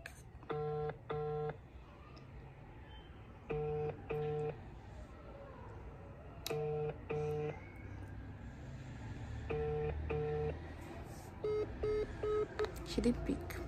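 A phone ringback tone repeats in paired bursts at regular intervals, fairly faint, with a low murmur of background noise between the rings.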